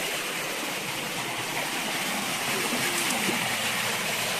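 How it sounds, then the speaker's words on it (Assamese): A small waterfall at the foot of a river in a quiet rural spot gives a continuous, even rush of falling water, moderately close and steady with no other sounds. "এইটো জেগা একদম নদীৰ তললৈ এইটো ঝাৰণা আছে"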